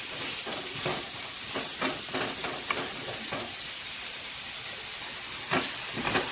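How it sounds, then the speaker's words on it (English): Pumpkin and carrot pieces sauté in a hot pan, giving a steady, close sizzle and hiss broken by a series of scraping stirs, with no talking. "So the pumpkin and the carrot is sauteing, you can see."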